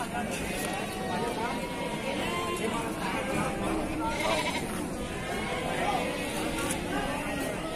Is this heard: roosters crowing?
no